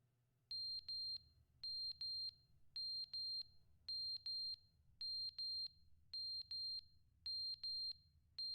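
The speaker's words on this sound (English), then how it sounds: "Alarm's going off." A high electronic alarm in the video game The Stanley Parable Ultra Deluxe beeps in quick pairs, repeating steadily about every half second cycle, over a low background hum.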